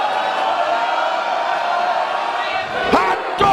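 Crowd at a wrestling event in Reseda, a sustained roar of cheering and shouting from a packed hall, loud and continuous, with a couple of sharp thuds near the end.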